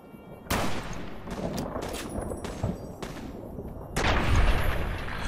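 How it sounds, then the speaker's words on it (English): Gunfire in the video game Fallout New Vegas crackles in dense bursts of sharp shots, with a heavier, louder volley near the end and no talk over it. "There's some gunfire over there."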